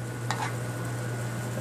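Seafood medley with black pepper sautéing in a pan gives a steady sizzle with a brief scrape of stirring near the start, over a low constant hum and without talk.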